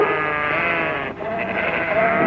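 A sheep bleats on a farm, one long wavering bleat close by that holds for a couple of seconds with no talking over it.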